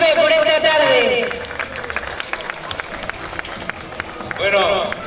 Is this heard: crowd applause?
yes